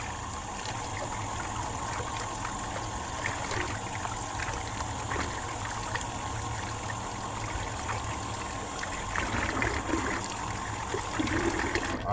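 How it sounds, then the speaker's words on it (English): Water from a tap runs steadily over a lobster head in a kitchen sink, a constant rushing splash that swells slightly toward the end. "we're just going to wash out the head of the lobster."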